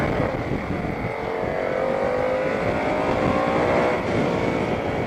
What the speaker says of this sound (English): We just bounced off the rev limiter right there.